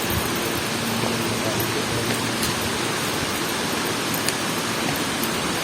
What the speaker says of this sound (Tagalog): Naririnig ko na ang lagaslas ng tubig.